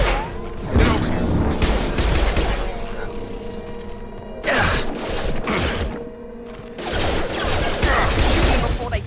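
Sci-fi gunfire in Mass Effect 2, with bursts of shots, mechanical clanks and thudding impacts recurring in waves over several seconds, alongside game voices talking.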